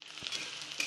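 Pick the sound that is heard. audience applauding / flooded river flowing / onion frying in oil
onion frying in oil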